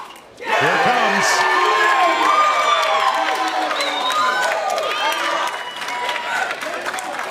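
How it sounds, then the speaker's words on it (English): Crowd at a professional pickleball match in Miami between the New York Hustlers and Orlando Squeeze cheering and clapping, a loud sustained roar that stays high throughout, with whoops and shouts rising out of it. "the cheers getting louder and louder here for Orlando"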